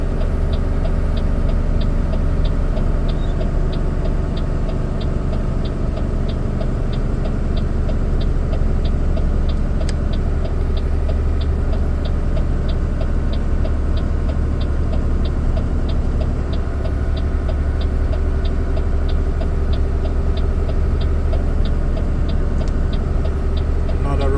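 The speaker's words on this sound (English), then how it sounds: "you want to ensure you have your 4-way flashers on" Hazard flashers on a Volvo truck with auto shift, descending a long 10 km hill on a BC highway, ticking at a steady rhythm over a constant loud engine and road drone inside the cab.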